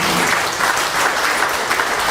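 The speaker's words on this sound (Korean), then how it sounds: "박수 부탁드립니다" Sustained applause from an audience at a seminar event in Korea, a dense continuous wash of clapping at steady level with no talk.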